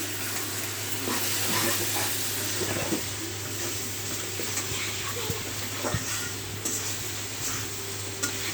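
Garlic paste frying with churi dried fish in a pan, giving a steady soft sizzle with light stirring scrapes and occasional clicks, close and fairly quiet throughout.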